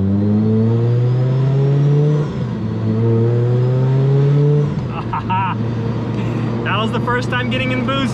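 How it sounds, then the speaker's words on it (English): A Rotrex-supercharged NB Miata accelerates into boost for the first time, its engine note climbing steadily in pitch through two pulls, then easing off as a whine and chirpy transient noises take over; close, loud, in-cabin. "First time getting in boost, 1 pound,"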